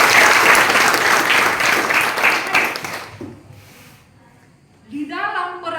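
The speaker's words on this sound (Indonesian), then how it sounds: "Tepuk tangan." Classroom audience applauding during a lesson on Eucharistic liturgy, dense loud clapping for about three seconds that fades out, followed by a voice speaking.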